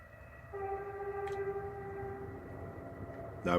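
A distant train sounds a long, steady horn over a low background rumble, faint and far off, about 200 yards away.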